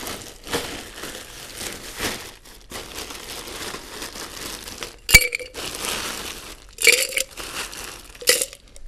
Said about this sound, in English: I like to use a shaker to make the original style margarita. And of course, I have to fill it with ice